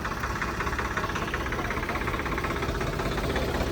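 A new Swaraj 855 shuttle-gear tractor engine idles nearby with a steady, rough diesel rumble and faint knocking, no voices.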